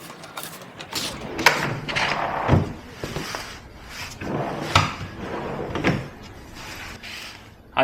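Drawers are slid into an understairs storage unit, producing repeated wooden knocks, scrapes and sliding rumbles that come in several loud bursts, close by.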